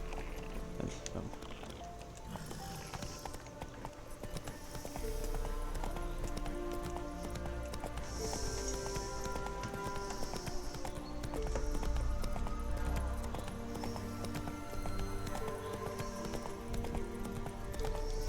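Hooves of a horse ridden in The Witcher 3: Wild Hunt clip-clop steadily in a quick running rhythm, layered over game music and ambience, with a voice talking over it.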